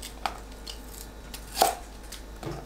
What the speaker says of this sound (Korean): 양파는 한입 크기로 썰어줍니다.